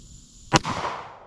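A single sharp, loud pistol shot from a Glock 19 or Taurus G2C at outdoor target practice, its crack followed by a short echoing tail.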